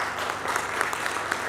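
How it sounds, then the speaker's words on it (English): Steady applause from an audience at a breakfast meeting on apprenticeships in Kenya, a continuous close clatter of clapping hands with no talk over it. "Can we give a round of applause to Madam Jean?"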